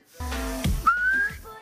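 A person whistles a single rising tone that glides upward and holds briefly, close and clear, following a low hum and murmur.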